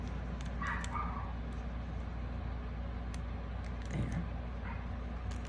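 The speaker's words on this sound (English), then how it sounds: "She has this little yippy bark." A puppy gives a few little yippy barks, faint and brief, around the start and again later over a steady low indoor hum.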